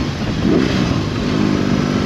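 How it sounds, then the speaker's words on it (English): A 2022 BMW R18B motorcycle engine revs up close and loud, a deep throbbing roar swelling briefly and holding steady over about two seconds. "So funny when you rev it, the whole thing just brep."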